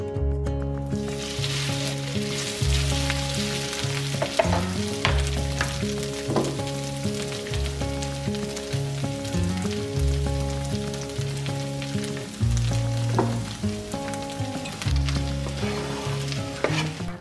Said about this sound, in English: you have to cook the potato to soften it and fry up the outside